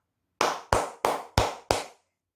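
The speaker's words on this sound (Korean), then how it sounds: "모두 박수 한번 치고 가도록 하겠습니다" Five evenly spaced, crisp hand claps close to the mic, each sharp and short, with silence on either side and no talking.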